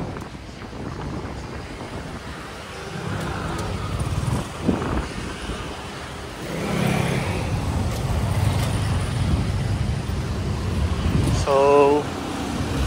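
Road traffic on Pote Road in Alabang, a constant roadside rumble of passing vehicles with wind buffeting the microphone and a short horn-like tone near the end.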